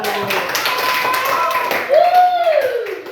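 Children in a fourth-grade Indonesian primary school class clap their hands together in a steady patter, close and fairly loud, while voices chant and talk over it.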